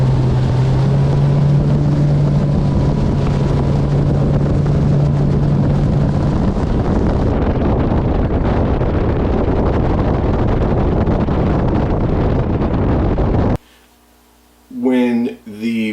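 A motorboat speeds across water, its engine drone and hull rumble buried under heavy, buffeting wind noise on the microphone for a long, loud stretch, ending abruptly as a voice speaks close up.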